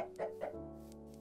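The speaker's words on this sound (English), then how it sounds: "Hey, look, more chickens." Chickens clucking in Minecraft give two or three short, faint, nasal clucks in quick succession, followed by a sustained tonal drone.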